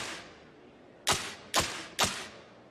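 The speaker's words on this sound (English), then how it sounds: "we have a whip crack and a metallic clink lock-on sound." Overwatch McCree's target lock-on cue in a video game: three crisp whip-crack snaps with metallic clinks, spaced about half a second apart, each followed by a short fading tail over a low hiss.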